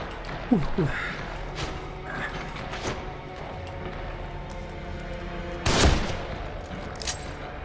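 Gunfire from the horror video game The Evil Within: a few sharp shots, a cluster early and a louder burst near the end, over a dark, low ambient game backdrop, with a voice speaking tensely in between.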